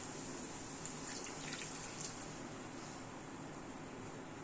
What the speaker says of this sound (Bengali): এবার এতে একটু জল দিয়ে দিই